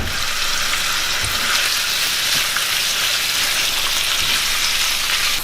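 Shrimp, seasonings and garlic frying in a hot pan, giving a steady, loud, continuous sizzle with faint crackles and the occasional clatter of stirring, no voices.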